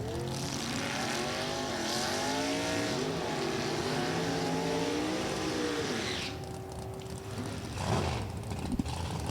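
A 1997 Pontiac Firebird with a 436 cubic inch engine and another drag car roar down the strip at National Trail Raceway, engines rising in pitch as they accelerate, fairly distant, then fading into a quieter rumble.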